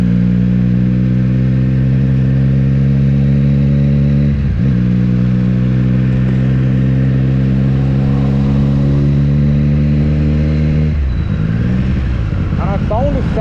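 A Triumph Street Triple 765 RS motorcycle engine with its exhaust runs loud and close in a steady, throaty drone, its pitch dropping and rising again twice as the revs change, ending with quick throttle blips.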